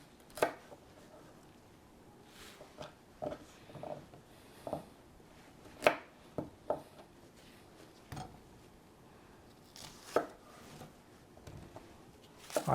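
Vegetables for a roasting turkey are chopped on a cutting board: irregular, fairly quiet knife thuds, some single and some in quick pairs, spread across a quiet room.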